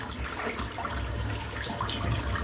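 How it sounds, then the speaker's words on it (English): Tap water runs steadily into a bathroom sink while preparing for a cold-water wet shave, a continuous close splashing trickle with no voices. "Just put a bit of water in the sink."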